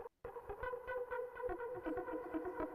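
A thick, detuned supersaw lead from a Roland JP-8080 synthesizer plays a trance-style pattern of rapid rhythmic pulses, sustained and moderately loud after a brief silent gap at the start.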